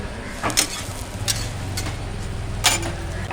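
Eggs fry in a pan at the Rupsha Hotel and Restaurant in Jessore, making a steady close sizzle with a few scraping, clinking stirs over a low background hum.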